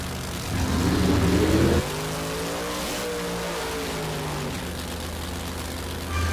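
A Cuda drag car at a Mid West Drag Racing Xtreme event in Texas roars loudly as it launches and accelerates down the strip, the engine note climbing steadily and then sustaining a strong, rising howl.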